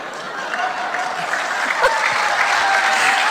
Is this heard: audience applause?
yes